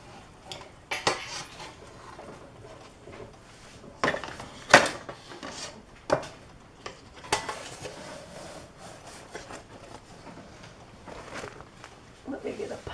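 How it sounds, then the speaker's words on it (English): Metal clanks and scrapes as the inner lining tray of a Presto Pizzazz countertop pizza oven is lifted out, irregular clatter with several louder knocks, close by, with someone talking intermittently. "I'm going to get the tray, the entire inner lining tray,"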